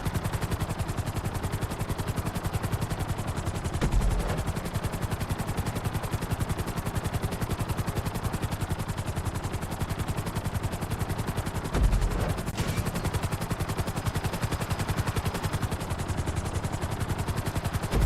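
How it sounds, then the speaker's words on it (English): Steady, loud mechanical drone with rapid rotor-like chopping throughout from a helicopter in Grand Theft Auto V, joined by occasional brief bursts of rattling gunfire, in a busy game-style soundscape. "Bring the helicopter down gently onto the helipad."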